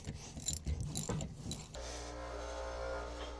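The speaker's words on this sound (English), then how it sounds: "my dad is just putting the bolt back in and tightening the struts at" A bolt on a coilover strut mount of a BMW E91 is tightened with a ratchet, producing quick clicking and metallic clanks, followed by a steady low mechanical hum with no talk.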